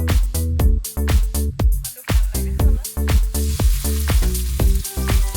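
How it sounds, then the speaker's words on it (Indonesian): A ground spice paste sautés in a wok over a Baduy kitchen fire, giving a loud, steady sizzle broken by repeated close clanks and scrapes of stirring. "Bumbu yang sudah dihaluskan kemudian ditumis di atas wajan."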